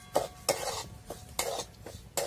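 Dry semolina (rava) roasting in a pan without oil, heard as a rhythmic series of scraping spatula strokes with soft grainy rustle between them, fairly quiet, no voices.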